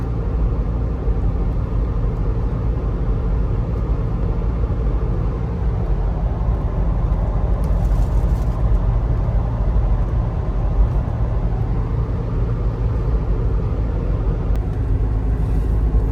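A BAW 212 cruises at 100 km/h on old asphalt at about 1,800 rpm in eco mode with its 8-speed automatic gearbox. A steady low engine drone and road rumble fill the cabin without a break, and nobody talks.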